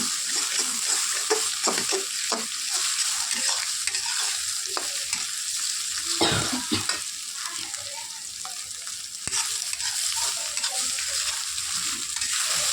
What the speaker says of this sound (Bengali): ডিমটা ভালো হয়ে গেছে, ডিমটাকে ভেজে নেব।